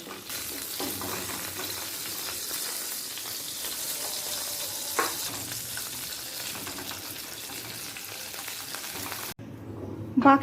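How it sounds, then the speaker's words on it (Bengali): Pieces of pointed gourd (potol) fry in oil in a pan with a steady, dense sizzle that runs for about ten seconds, then the sound drops away sharply near the end. "বাকি যে পটলগুলো আছে সেই পটলগুলো ভেজে তুলে নেব"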